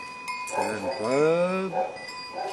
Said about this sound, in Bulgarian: Сега вода пият ли тия кози през деня?